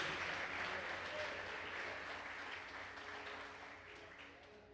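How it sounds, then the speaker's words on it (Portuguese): A church congregation at a Sunday family service applauds the Lord, a fairly steady wash of clapping at moderate volume that slowly thins and softens toward the end, with faint voices mixed in. "Você pode aplaudir o Senhor?"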